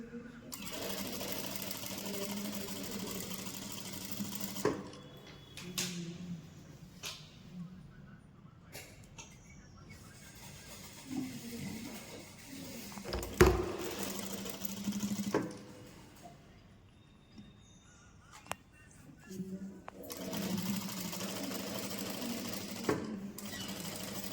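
A sewing machine stitches the side seams of a short kurta, running in bursts of steady whirring that stop and restart several times, with brief pauses and light handling noises between runs, close and fairly loud.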